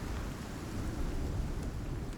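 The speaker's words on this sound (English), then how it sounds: "Oh, that storm's just howling out there." A storm in the survival video game Icarus, with steady dense rain and a low rumbling roar of thunder and wind, continuous and fairly loud without any talking.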